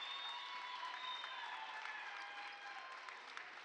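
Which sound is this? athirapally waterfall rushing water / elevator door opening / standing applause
standing applause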